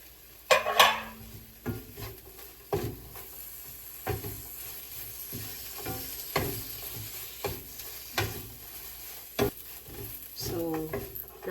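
Spicy-sweet Korean anchovies are stirred in a pan with chili, producing repeated scraping and clinking strokes of a utensil against the pan over a soft sizzle, fairly close and steady without talk.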